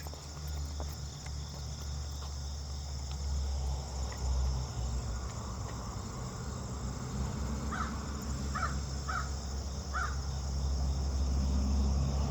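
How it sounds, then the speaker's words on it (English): A few short crow caws ring out at a distance over steady insect chirring and low outdoor rumble. "Well, the crows have business this morning."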